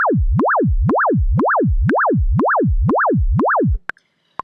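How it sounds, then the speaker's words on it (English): A Logic ES2 synth note swept by an LFO in time with the beat, rising and falling pitch in eight even cycles against a ticking metronome click, then cutting off abruptly, loud and clean. "if I start to play the note with it, we should hear it oscillating in time with Logic"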